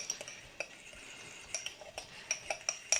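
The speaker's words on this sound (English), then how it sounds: "just dribble that in there. And stir very quickly." A utensil stirs quickly in a bowl as pasta water is dribbled into egg yolks for lobster carbonara, making a rapid run of light clinks and scrapes against the dish that grows busier toward the end.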